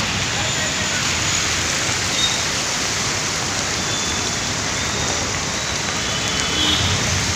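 Heavy monsoon rain pours over Thane city near Castle Mill, with water flooding the road and traffic jammed, making a dense, steady roaring hiss that fills the whole stretch without pause.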